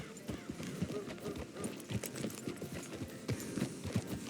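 Rapid hoof clip-clops of a trotting horse in the video game Red Dead Redemption 2 repeat steadily throughout, close and moderately loud, with some background noise.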